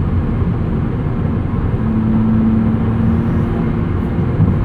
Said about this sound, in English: Very responsive DCT. Shifts are immediate and almost violent.